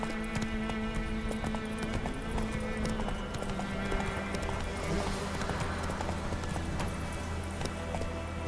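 Roach, a horse in The Witcher 3, trots with steady clip-clop hoofbeats against a dense, busy game background, with a brief whinny and faint speech mixed in.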